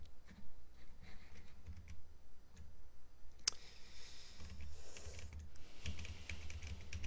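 Typing on a computer keyboard, with quick irregular clicks and taps in short bursts, close and fairly quiet, with a brief louder rustle partway through and no talking.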